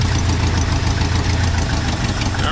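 A 1968 Ford F100 pickup engine runs steadily at idle, a loud, continuous low rumble with a slightly knocking texture and no voices.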